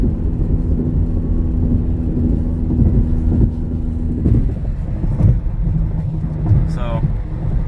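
A straight-piped Ford Fiesta ST cruises in sixth gear on a freeway, a steady low engine drone blended with heavy road and traffic roar, continuous and even throughout.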